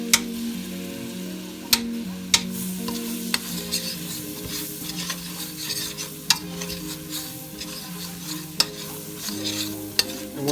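Butter melts in a pot for crawfish etouffee while a spoon stirs and scrapes, a soft sizzle broken by sharp taps of the spoon against the pot, close and without talk.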